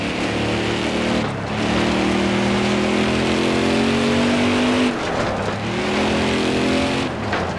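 Race cars roar around a track in a loud, sustained engine drone that rises and falls as they accelerate and pass, with no speech over it.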